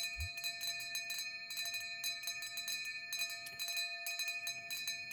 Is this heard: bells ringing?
yes